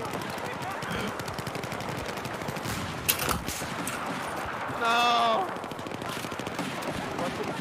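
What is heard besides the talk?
gunfire in a video game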